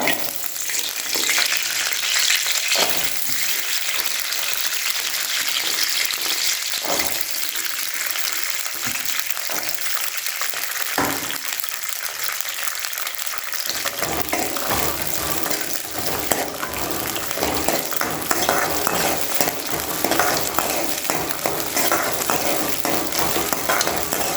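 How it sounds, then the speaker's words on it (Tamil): Turkey berries (sundakkai) sauté in sesame oil in a kadai, giving a continuous loud sizzle with occasional scraping stirs; the crackle thickens and grows busier halfway through, and no voices are heard. "இப்போ அதை அந்த எண்ணெயில் போட்டு நல்லா வதக்கி எடுத்துக்கலாம்"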